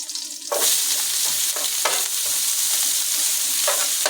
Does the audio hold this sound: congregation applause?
no